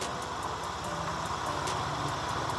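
A Honda Vario 125 scooter engine under repair idles steadily after starting, a low even running drone close by with no talk over it.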